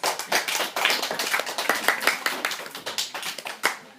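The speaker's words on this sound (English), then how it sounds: "Mr. James Kyle Paran, please give a round of applause." A school debate audience claps, a dense crowd of hand claps continuing steadily for a few seconds, moderately near, with no speech over it.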